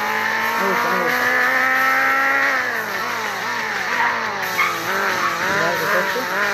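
A game car brakes, accelerates and skids, its engine revving loudly with pitch rising, dipping and climbing again through several gear changes, tires squealing and sliding, with no speech.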